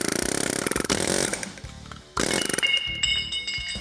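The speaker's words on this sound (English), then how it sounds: "I'm gonna hit it with the air hammer here." Air hammer pressing a metal sleeve out of a rubber mount on a square body truck, loud harsh rattling bursts broken by short pauses, with no talking.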